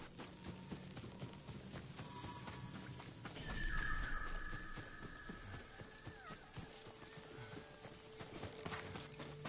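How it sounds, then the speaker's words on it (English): A horse's hooves clip-clop in the samurai video game Ghost of Tsushima. The hoofbeats are quiet, steady and rhythmic, with a brief swell of ambient game sound in the middle. "Or should I just use the horse?"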